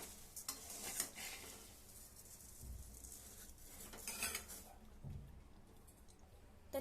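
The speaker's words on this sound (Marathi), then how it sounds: "सर्व पोहे मिक्स करून घेऊया।" Bhajke poha chivda stirred in a pan over very low gas, a faint dry rustle with soft spoon scrapes and clinks against the metal in uneven bursts, quiet and close with no voices.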